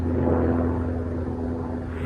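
Deep, continuous droning roar of a helicopter overhead, a steady low hum with no voices, holding loud and even throughout.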